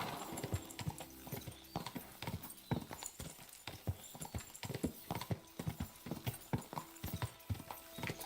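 Video game horse hooves clip-clopping in a steady galloping rhythm, crisp repeated hoof strikes layered over game ambience, with occasional snorts and a faint whinny.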